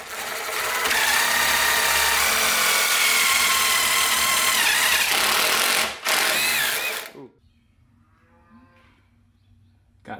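A drill boring pocket holes with a Kreg jig into cabinet wood in a garage, a loud sustained whining drill run for about seven seconds that stops abruptly, followed by quiet handling noises.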